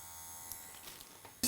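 A tattoo-style machine fitted with a liner needle gives a steady, faint electric buzz. A few light ticks occur while it runs, and the clip ends with a sudden louder burst.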